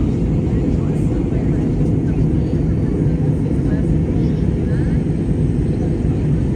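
Steady, loud low roar of a Jetstar passenger jet in flight, heard from inside the cabin and continuing unbroken throughout.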